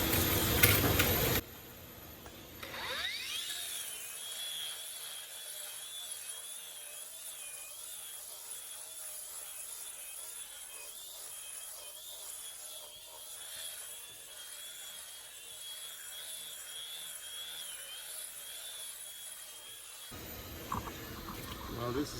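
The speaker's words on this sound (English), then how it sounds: "I always say you need to diamond grind first." A diamond grinder runs across a concrete floor being prepared for a novolac epoxy coating in a battery charging area, giving a steady whining motor drone that lasts nearly the whole time and opens and closes with louder bursts.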